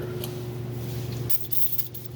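A brief hiss of spray cleaner on dirty front brake parts of a 2015 Jeep Patriot bursts in near the end, loud and close, after a steady low hum.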